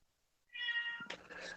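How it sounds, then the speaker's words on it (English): A single drawn-out cat meow sounds in the background, fairly faint but clear, followed by a second broken cry, with no one speaking. "Other than the meowing that I hear in the background"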